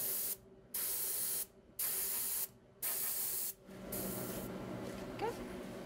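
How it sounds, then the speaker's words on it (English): Colored cocoa butter is sprayed onto chocolates in several loud hissing bursts, each about a second long and separated by short pauses, followed by a softer continuous hiss. "this technique is all spraying"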